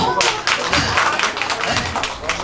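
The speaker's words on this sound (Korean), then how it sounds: "박수 한번 주시오" An audience claps along at an outdoor jang-gu drum show at a harvest festival, bursts of hand claps in quick uneven rhythm, fairly close and lively, with no talking over them.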